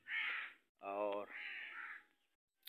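Crows caw on a morning walk home from picking okra, giving two loud harsh calls separated by a short spoken word.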